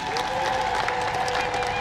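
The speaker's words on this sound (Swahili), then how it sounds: "Tatu, makofi mengi na vigelegele." A crowd at a Tanzanian revenue authority event led by President Samia applauds steadily throughout, a dense wash of clapping with shrill ululation trilling above it, sustained and fairly loud.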